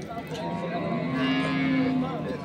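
A dairy cow of a local breed at Ambari cattle market in Dinajpur lets out one long, close moo over the busy crowd noise and voices of the market.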